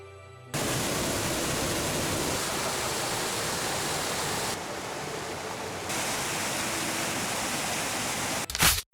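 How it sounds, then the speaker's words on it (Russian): A mountain waterfall in the Altai roars with a steady, dense hiss of falling water, close and unbroken, dipping slightly in the middle before ending abruptly. "а еще посмотреть несколько водопадов по соседству"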